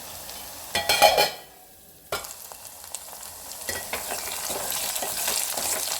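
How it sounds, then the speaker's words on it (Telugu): Pounded onion pieces fry in a pan for an amaranth leaf curry. A spoon stirs them with a brief scrape, then a steady close sizzle builds and holds. "దంచుకున్న ఆ ఉల్లికడ మొత్తం వేగిపోయింది చూడండి"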